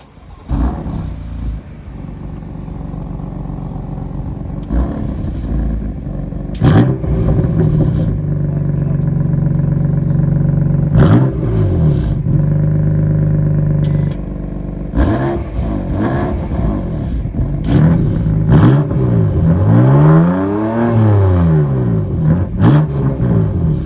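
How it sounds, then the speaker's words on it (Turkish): A BMW M4 with a 3.0 turbo 431 hp engine and active exhaust revs hard in repeated bursts, the exhaust roaring up and dropping back between blips, loud and close with no talking. "Şimdi gelin bu egzozlara şöyle bir gaz vereyim. Burada da bir sesini duyun."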